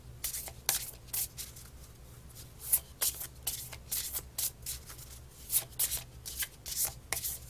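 Tarot cards are shuffled and drawn by hand in a quick, irregular run of crisp riffles and slaps, close and clear, with a low hum underneath.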